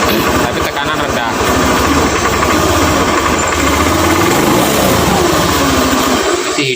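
A vehicle engine running with low to no pressure keeps idling and won't rev, giving a steady, close, throbbing rumble with a fast low pulse throughout, while voices talk over it.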